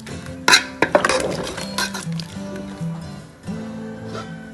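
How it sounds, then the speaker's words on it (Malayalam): Chicken curry with fried ground coconut being stirred in a pot: a few sharp metal clinks of a spoon against the pot, then softer scraping and stirring, close and alone. "ഇളക്കാം."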